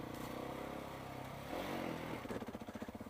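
Yamaha Ténéré motorcycle engine climbing a mountain road in low gear, a steady moderate drone that turns into rhythmic pulsing revs near the end.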